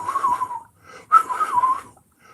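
A voice mimics someone whistling into a cup: two breathy, airy whistle tones, the second sharper and slightly wavering, close and fairly loud with a short pause between.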